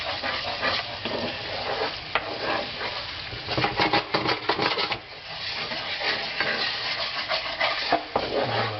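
Honey sauce is stirred as it heats in a pan, giving a continuous close scraping and sizzling with uneven bursts of stirring and light clinks, with no talk.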